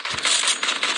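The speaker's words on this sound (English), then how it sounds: "Reloading." A weapon being reloaded in a video game: a quick burst of metallic clicks and clacks lasting about a second, close and fairly loud.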